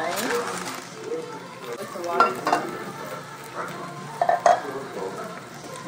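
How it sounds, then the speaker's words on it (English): Food sizzles and fries on a hot plate at a restaurant, a steady crackle running under close conversation, with a few clinks of dishes and cutlery. "sound of the sizzle"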